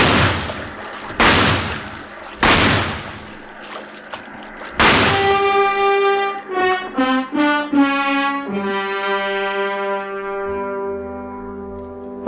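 Gunfire in an old-time radio adventure drama at sea: several loud sharp shots in quick succession, each cutting off abruptly, followed by sustained tonal music swells.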